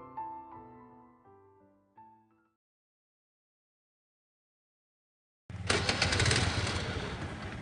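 A vehicle engine catches and runs in a steady, loud, rough roar. Before it starts there are a few seconds of tonal music, followed by a moment of silence.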